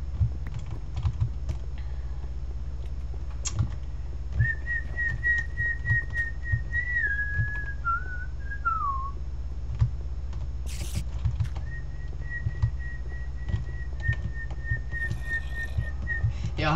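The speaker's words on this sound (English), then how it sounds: "Yeah, I hope you enjoy my whistling." A person whistles a sustained, wavering melodic tune with slides and trills in two phrases, over steady background hum and clicky keyboard typing, with no talking.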